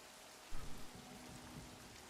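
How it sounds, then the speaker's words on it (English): Rain falls steadily in a scene from the TV series Stranger Things, a soft, even broadband hiss of drops with a brief louder patter early on and no voices. "That rain looks so good though."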